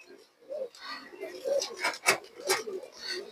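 A large pigeon coos in soft, repeated throaty phrases close by, with a few sharper clicks and rustles mixed in.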